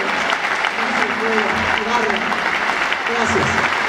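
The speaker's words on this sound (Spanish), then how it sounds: "Un aplauso lo más fuerte para esta simbólica maravillosa." Steady applause from a crowd fills the whole stretch, with a voice faintly audible beneath the clapping.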